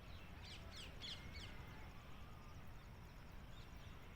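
Distant bird calls, a few raspy caws and chirps, over a steady outdoor background hiss.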